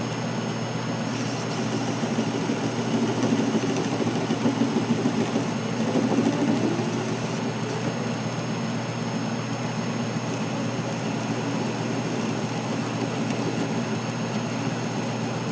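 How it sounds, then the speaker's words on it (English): An Atlas 618 lathe cutting the side of an RC car wheel produces a continuous, even mechanical drone with a faint rising scrape midway as the tool bites, with no talking. "get that other tool in there and cut the other side of our wheel"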